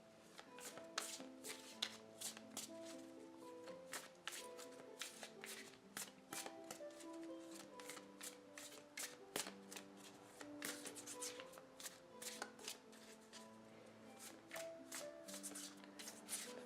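A deck of tarot cards being shuffled continuously at close range, with rapid riffling, papery flicks and soft slaps repeating throughout over a quiet background of faint tones.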